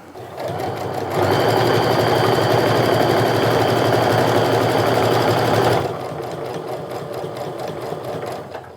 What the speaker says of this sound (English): Now I'm going to use that 1/8 of an inch stitch to stitch down the sides of that pocket